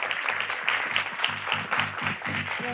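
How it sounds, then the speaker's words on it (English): Audience applause at a conference on women in energy, a fairly quiet, even patter of many hands clapping with a rhythmic pulse, with a low murmur underneath. "Just give her a very warm round of applause"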